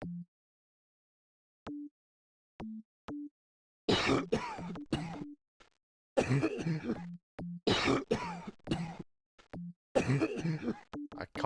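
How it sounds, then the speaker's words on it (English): Coughs in a point-and-click adventure game, set in New Orleans, come as several harsh bursts among short beeping tones, with a voice talking in between. "I can't tell who's coughing."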